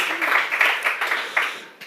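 Brief burst of audience clapping at a business forum, several people applauding in a short uneven patter that fades out quickly.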